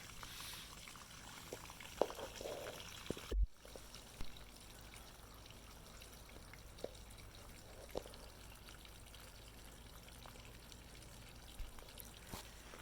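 Water pours and trickles from a refurbished Alfa Romeo GTV gas tank being rinsed of rust, a faint continuous flow with a few soft clunks and splashes near the start.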